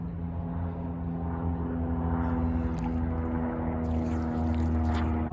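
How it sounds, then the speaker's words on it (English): A Piper Super Cub flies overhead at a riverside spot, its propeller engine a steady, droning hum that stays fairly loud and constant throughout. "Oh, it's a Super Cub."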